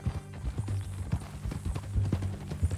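Horse hooves clip-clop at a steady walking rhythm across the whole stretch in Red Dead Redemption 2, close and fairly loud, with a faint snort or whinny in the mix.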